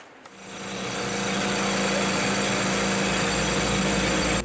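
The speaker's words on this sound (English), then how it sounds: "To get farther into the bedrock, they drill holes and fill them with dynamite." A rock drill bores into bedrock at a tourmaline mine in Afghanistan, starting up and then running as a loud, steady, high-pitched grinding whine with no voices.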